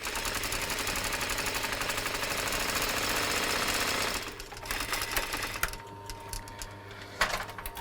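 An industrial sewing machine stitches together the back panels of an Anya Hindmarch Maud handbag: a loud, rapid, continuous mechanical whirr for about four seconds, then it stops and only quieter handling noises follow.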